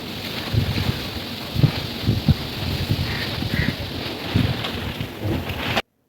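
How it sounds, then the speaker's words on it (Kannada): Gusty wind rumbles and buffets the microphone in uneven bursts, a low roaring noise with no voices. "ಈ ಟೈಮಲ್ಲಿ ಚೆನ್ನಾಗಿ ಗಾಳಿ ಬೀಸ್ತಿದೆ"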